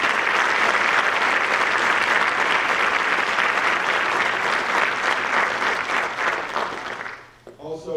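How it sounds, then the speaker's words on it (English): Audience applauding award winners at a high school awards ceremony, a loud sustained round of dense clapping that fades near the end. "If we could give all the award winners one more round of applause,"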